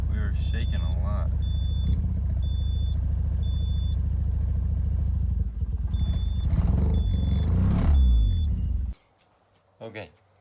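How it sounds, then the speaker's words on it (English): Mazda RX7 rotary engine starting and idling with heavy vibration, a loud low rumbling drone with repeated short beeps over it, then the engine cuts off abruptly near the end, leaving near silence and a brief thump. "Okay, so we started the car."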